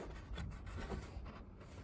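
Rhythmic, quiet rubbing strokes of sandpaper on wood, a steady back-and-forth rasp at close range.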